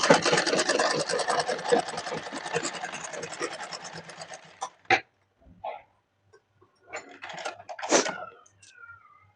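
A sewing machine stitching a blouse seam runs in a rapid, steady mechanical chatter for several seconds, then stops for reverse stitching, followed by short isolated clicks and brief bursts close by.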